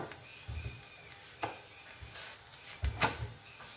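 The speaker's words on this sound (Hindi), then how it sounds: "आज तो ये दलिया भी भूनना है मेरे को" Broken wheat (daliya) dry-roasts in a pan, a faint hiss punctuated by several soft scraping stirs and low knocks against the pan.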